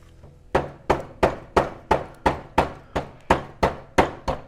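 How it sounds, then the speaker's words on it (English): A rubber mallet strikes a part on a 1964 Honda Super Cub to break it loose: about ten close, evenly spaced solid thuds, each ringing briefly before the next blow. "I'm just gonna hit it with the rubber mallet, hopefully break it loose"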